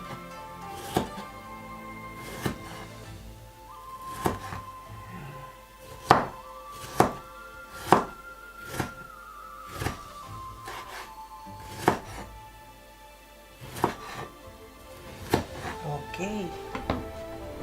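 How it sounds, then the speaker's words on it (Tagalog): A knife cuts through tomato on a wooden board in a series of sharp, evenly spaced thunks, close and fairly loud, while a person talks between and over the cuts. "Hiwa po tayo ng tomato."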